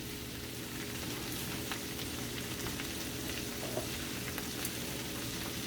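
Shredded cabbage fries steadily in a pan with a continuous soft sizzle and crackle, heard fairly close and unbroken throughout, with no voices.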